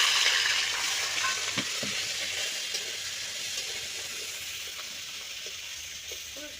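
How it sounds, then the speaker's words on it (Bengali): Prawns frying in mustard oil in a wok give off a steady, fairly close sizzle with small crackles and light stirring scrapes throughout. No one speaks. "আর চিংড়ি মাছটা ভেজে নেবো।"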